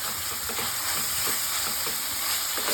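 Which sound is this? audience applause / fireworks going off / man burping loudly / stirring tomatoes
stirring tomatoes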